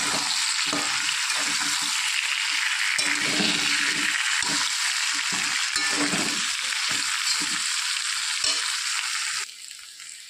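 Ground ginger, dried and green chili paste and cumin powder frying in oil in a pan for a vegetarian curry, a steady loud sizzle with repeated scraping strokes of a spoon stirring, easing slightly at the end.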